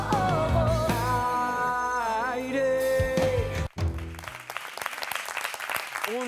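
An audience applauds a performance from a stage musical. A sung, held musical passage ends abruptly and lively clapping follows for the last couple of seconds.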